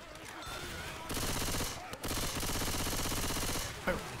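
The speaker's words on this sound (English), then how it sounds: "Stop shooting me." Dense, continuous gunfire from several weapons in the video game Left 4 Dead 2 during a versus match, loud and sustained with a short break, while a player talks faintly underneath.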